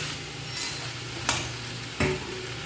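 Spice paste frying with vegetables for shukto, a steady close sizzle with a few sharp scrapes of the stirring spoon against the pan at irregular intervals.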